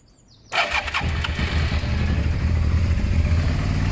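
A Suzuki SV650 motorcycle engine cranks and catches after a quiet moment, then settles into a close, loud, lumpy idle that carries on steadily.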